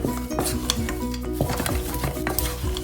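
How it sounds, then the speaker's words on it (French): A spoon scrapes and stirs thick choux pastry dough drying in a metal saucepan, with close, continuous scraping and occasional clinks against the pan. "je suis en train de dessécher la pâte à choux, donc il faut bien mélanger"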